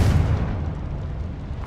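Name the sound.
Confringo fire-blasting spell explosion in video game Hogwarts Legacy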